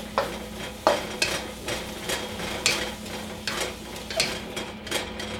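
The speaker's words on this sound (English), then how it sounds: "Doesn't sizzle as much on the second time." Vegetables with peppers and citrus zest are tossed in a pan for a second round, giving a mild sizzle under repeated scraping and stirring strokes, close by and fairly steady.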